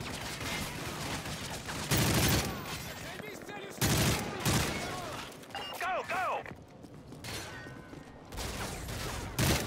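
Modern Warfare 3 gameplay with loud bursts of automatic gunfire in several volleys, one around each two-second mark, with clanking mechanical sounds in between, while someone talks over the shooting.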